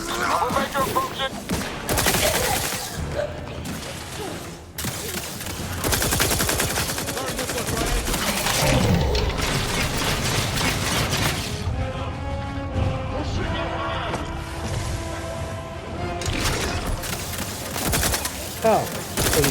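Turret gunfire in the game The Outer Worlds 2 hammers in rapid, loud sustained bursts with crashing impacts, under intermittent voices talking over the combat.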